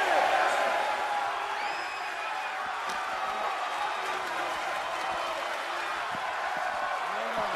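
Crowd noise from the WWE 2K23 wrestling video game forms a steady roar through the whole stretch, with brief thuds from the ring, heard beneath a speaking voice.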